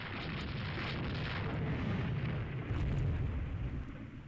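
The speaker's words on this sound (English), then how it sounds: "I figured one of those would get hit by a torpedo" A torpedo striking a warship in the naval strategy game Rule the Waves 2 sets off a dense, rumbling explosion roar that holds steady and swells slightly near the end, with no voices.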